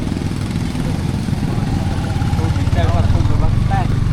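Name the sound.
motorcycle engine running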